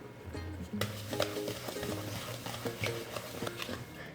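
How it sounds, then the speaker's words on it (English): Dry ingredients for vegan chocolate chip cookies are stirred together in a bowl, with a close, steady scraping swish and soft irregular knocks of the utensil against the bowl. "we're gonna mix that up really well"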